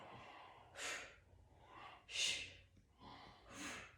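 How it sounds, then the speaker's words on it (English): Forceful breaths pushed out through the mouth during a core workout, four rhythmic whooshing exhales about a second apart, close and fairly soft with no talk. "Exhale through that mouth."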